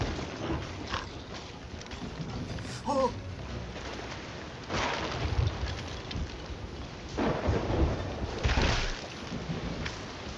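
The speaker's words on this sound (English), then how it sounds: "The storm's getting better." A thunderstorm at sea in the video game Sea of Thieves, with steady heavy rain and wind broken by rumbling thunder rolls, plus a brief squeaky sound partway through.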